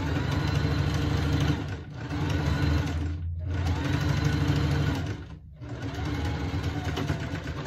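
A sewing machine stitching a fabric bag, running in a loud, steady close-up whir with two brief stops before starting again.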